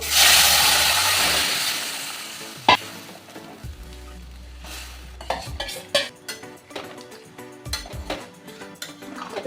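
Shukto vegetables tipped into a hot pan with panch phoron and ginger, giving a loud initial sizzle that fades into scraping, stirring and clattering of a utensil against the pan, with no talking.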